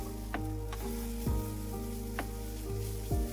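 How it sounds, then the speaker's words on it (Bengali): Masala pasta being stirred into sauce in a hot pan, with a steady low sizzle and a few distinct scraping strokes of the spoon against the pan, close and without any talk. "তার মধ্যে পাস্তাগুলোকে দিয়ে দেব। ভালোভাবে মিক্স করে নেব।"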